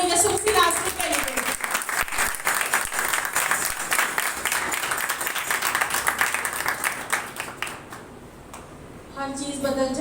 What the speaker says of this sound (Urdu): زوردار تالیاں اپنے یسوع مسیح ناصری کے لیے